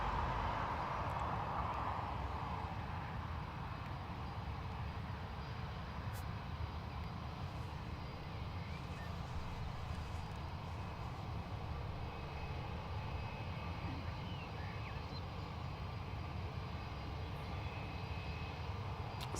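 Ryanair jet engines hum steadily at Dublin Airport while the plane holds for clearance, a continuous distant aircraft drone that stays even throughout.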